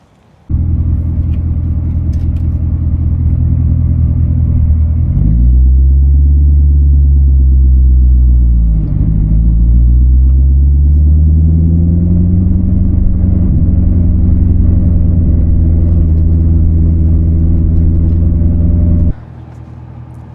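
Steady, loud low-pitched engine drone of a C7 Corvette heard from inside while driving, holding a deep rumble with brief shifts in pitch as the revs change, then dropping off sharply near the end.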